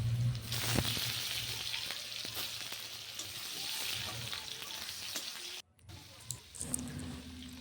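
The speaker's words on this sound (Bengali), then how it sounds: "এখানে তেল দিয়ে দিয়েছি, এখানে গোটা জিরে, তেজপাতা, গোটা গরম মশলা দিয়ে দেব। দিয়ে এখন একটু লাল লাল করে এই যে আলুগুলো দিয়ে দিলাম।" Potatoes sizzling in hot oil with whole cumin, bay leaf and whole garam masala, a steady close frying crackle that briefly drops out and then returns with a few sharper pops and stirring.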